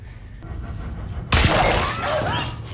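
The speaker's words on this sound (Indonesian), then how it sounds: "sniper misterius itu pun kembali melesatkan tembakannya yang membuat ponsel milik Alice hancur berantakan" A mobile phone shattered by a sniper's gunshot in a film: quiet tense ambience, then a sudden loud impact and bursting shatter, followed by scattering debris and lingering ringing fragments.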